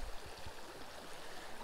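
A small, crystal-clear trout stream runs steadily at a low level, giving off a soft continuous rush of water with a few low gurgles near the start.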